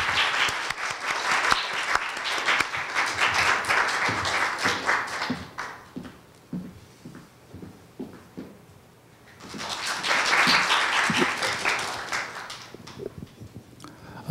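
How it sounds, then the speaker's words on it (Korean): An audience applauds in a lecture hall at Korea University as a guest lecturer is called to the podium; dense clapping fades to scattered claps midway, then swells again before tapering. "여러분 뜨거운 박수로 환영해 주십시오."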